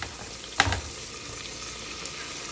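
Green chillies fry in oil with a faint, steady sizzle that runs throughout, broken by one brief clatter of a utensil early on.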